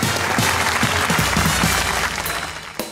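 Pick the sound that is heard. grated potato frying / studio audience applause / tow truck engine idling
studio audience applause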